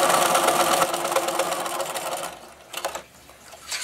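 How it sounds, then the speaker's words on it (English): A sewing machine straight-stitches along the edge of a strap for a Halloween trick-or-treat bag, running loudly and steadily, then slowing and stopping with a few short bursts at the end. "Now we are going to use 1/4 inch seam and just stitch along the edge"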